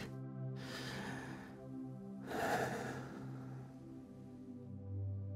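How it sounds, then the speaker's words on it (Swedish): Two slow, deep breaths are drawn and released during a guided beginner's breathing meditation, soft airy swells with a low steady tone humming underneath, close and unhurried with no talking. "Ta ett djupt andetag."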